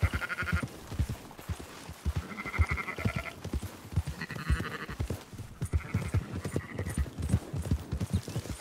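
Sheep bleating among horses in Red Dead Redemption 2, with clip-clopping hooves plodding steadily close by and bleats breaking out in repeated short bursts throughout.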